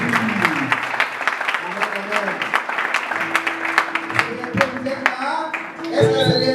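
Congregation clapping and applauding at a youth evangelisation conference, dense rhythmic claps running throughout with voices and singing mixed in near the end.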